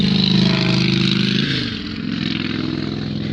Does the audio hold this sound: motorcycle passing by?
yes